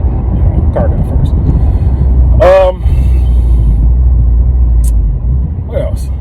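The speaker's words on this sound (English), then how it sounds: "I bought the car for the noise that comes out of those quad tips back there" Quad exhaust tips on a car with the performance pack put out a deep, steady, loud rumble that runs throughout, with a brief higher tone partway through.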